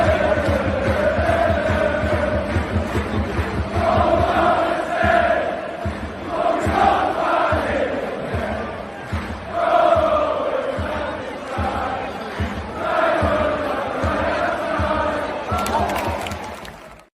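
An away crowd of Middlesbrough football fans sings loudly at a match while their side trails 4-1, a massed chant echoing through the stadium with rhythmic clapping or stamping pulses underneath.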